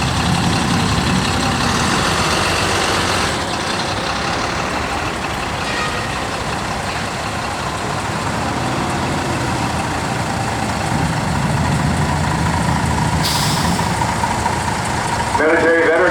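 Big trucks idle in a Memorial Day parade in Dacula, a steady loud diesel rumble running throughout, with voices and a brief beeping tone near the end.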